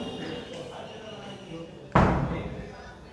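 A door swung shut indoors with a single sharp, heavy slam about two-thirds of the way through, its echo fading quickly, after a quieter stretch of room murmur.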